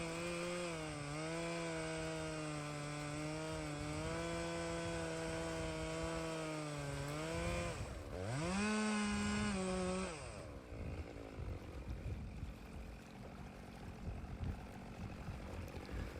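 A chainsaw rips lengthwise through driftwood, a loud sustained buzzing drone that dips and surges under load, briefly revs higher, then cuts out to quieter rustling and handling noise.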